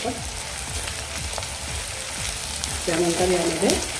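Tomato sautéing in a pan for a Bombil masala, a steady close sizzle with soft stirring scrapes, and a brief higher clatter of the utensil near the end.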